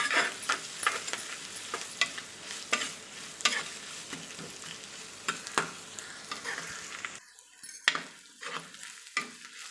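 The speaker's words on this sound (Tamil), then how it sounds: "சின்ன வெங்காயத்தையும் சேர்த்து ஒரு பச்சை வாசனை போக கொஞ்சம் வதக்கிக்கலாம்." Small onions and shallots sauté in a pan for a coconut-milk fish kuzhambu. Steady frying hiss runs under repeated spatula scrapes and stirs, then drops to a quieter patch broken by a few sharp scrapes near the end. No one talks.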